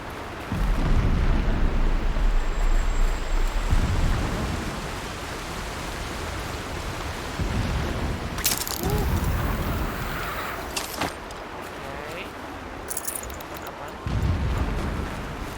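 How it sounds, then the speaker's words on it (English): Distant explosions in the video game Horizon Zero Dawn: several deep, muffled booms rolling in bursts over about fifteen seconds, with a sharper crackling impact near the middle, all fairly faint and without talk. "Explosions in the distance."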